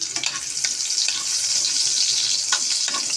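Onions sizzle and crackle in hot oil in a pan, a close, steady frying hiss with occasional spits and stirring scrapes and no speech.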